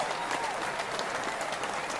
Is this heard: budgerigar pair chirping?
no